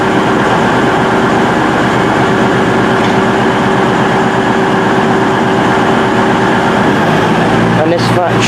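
A train runs at Stockport station with a loud, continuous rail rumble and a faint tonal whine, changing character near the end as it passes.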